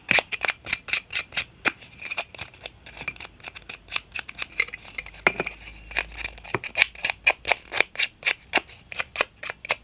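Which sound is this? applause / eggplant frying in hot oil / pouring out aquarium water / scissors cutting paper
scissors cutting paper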